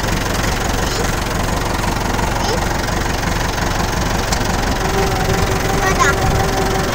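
Car engine idling steadily during a driving lesson, a constant low mechanical hum running the whole time, with quiet talk in the car.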